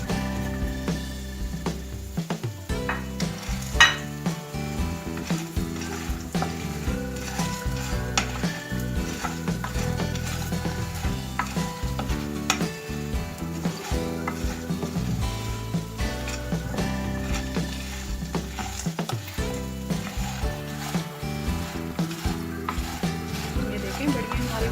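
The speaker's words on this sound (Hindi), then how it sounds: "इसमें बड़ियों को फ्राई करना है।" Crushed dried lentil dumplings (wadiyan) frying in oil in a frying pan, a steady sizzle with stirring and scraping throughout, mixed under background music.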